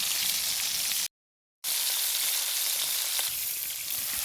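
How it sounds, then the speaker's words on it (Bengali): Fish sizzles and crackles in hot oil, a loud continuous frying hiss close by, broken by one short silent gap. "মাছ ভাজা হয়ে গেছে, প্রায় আধা ভাজা হয়ে গেছে"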